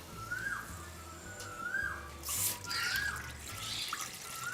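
Light trickling and splashing of water poured into a pot to boil, fairly close, with a soft background hum and faint whistling tones.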